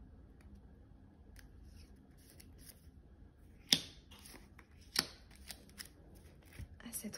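Oracle cards are shuffled and drawn in a quiet room, with soft riffling and a few sharp snaps and slaps of cards landing, faint and close under a voice.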